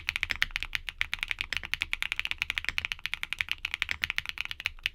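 Rapid, crisp clacking of HMX Retro mechanical keyboard switches, a dense, even stream of sharp keystrokes typed close up with no talking.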